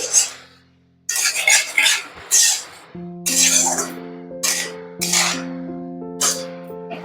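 Water lily stems are stirred with black cumin in a pan, making repeated rhythmic scraping strokes, fairly close, over steady background music.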